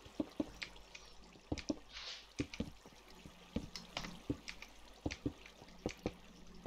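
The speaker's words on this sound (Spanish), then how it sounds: "escucha el sonido del agua y el compás de los bloques" Flowing water in the Minecraft video game: a soft trickling bed with close, sharp dripping and tapping ticks scattered irregularly throughout, fairly quiet and without talk.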